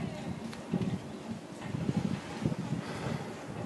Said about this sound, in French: Il y a un petit peu de vent, je ne sais pas si on va entendre bien.